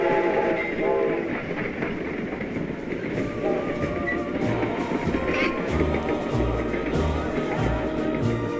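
The American Freedom Train, a steam locomotive on its 1976 bicentennial run, rumbles past with clattering wheels and sounds its horn in loud, sustained blasts over the steady roar of the passing cars.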